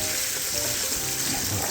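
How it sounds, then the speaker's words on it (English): Bacon sizzles steadily in a pan of hot grease while frying, a continuous close crackling hiss with no talking. "we got the bacon cooking here"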